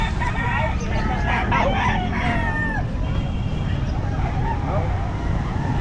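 Roosters crow repeatedly at the Calumpit pet market, several calls overlapping amid a busy crowd, with people talking nearby throughout.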